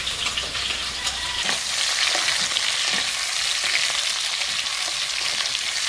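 Garlic, onion and ginger frying in a pan, a loud, continuous sizzle close up with occasional stirring scrapes.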